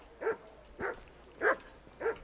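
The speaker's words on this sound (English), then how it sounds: "Good doggy." A dog in the medieval video game Kingdom Come: Deliverance gives four short, evenly spaced barks, fairly quiet and slightly distant, with no talk over them.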